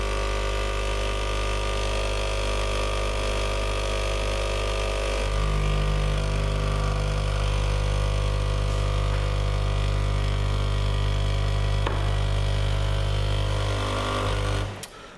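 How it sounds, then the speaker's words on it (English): Morphy Richards Power Steam Elite steam generator running its descaling cycle, its pump giving a steady, loud mechanical hum with a low drone that deepens partway through and cuts off abruptly near the end. "now you hear this pump. So the pump will sound for around 20 seconds."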